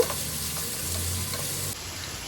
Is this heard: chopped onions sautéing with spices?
yes